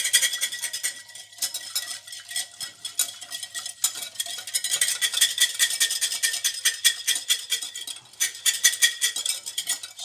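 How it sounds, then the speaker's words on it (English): Wire whisk beating soufflé pancake batter in a bowl until smooth, a fast steady rhythm of bright metallic scraping and clicking that runs continuously at close range, with no talk. "So whisk until smooth"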